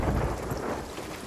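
Heavy rain and rolling thunder in the Sea of Thieves pirate video game on an island, a dense, loud, unbroken roar of downpour with deep rumbling, no voices.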